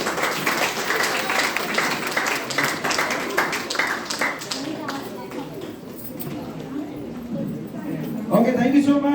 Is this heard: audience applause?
yes